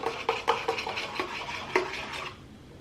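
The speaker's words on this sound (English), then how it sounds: "I'm gonna stir this up really good" A spoon stirs whole milk over ice in a big cup, clinking sharply against the cubes and the side of the cup in quick, uneven knocks before the rattling trails off.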